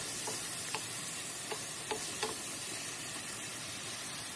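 Capsicum stir-fries over medium heat in a pan for garlic shrimp pasta, a steady faint sizzle running throughout with a few soft utensil taps.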